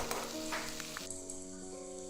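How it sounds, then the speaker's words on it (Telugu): Ridge gourd peels fry in hot oil in a pan with a steady, close sizzle and crackle, stirred once partway through, with no talking. "తొక్కలు కలర్ మారే వరకు వేయించుకోండి. చూసారు కదా, బీరకాయ తొక్కలు బాగా వేగినాయి."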